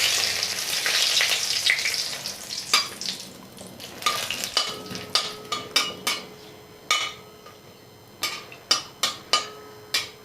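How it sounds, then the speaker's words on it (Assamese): A dried red chili and bay leaf fry in hot oil with a loud sizzle that fades, followed by a run of sharp spatula or utensil clicks against the pan, with no talking. "এতিয়া ইয়াতে মই শুকান জলকীয়া এটা আৰু তেজপাত দি দিছোঁ।"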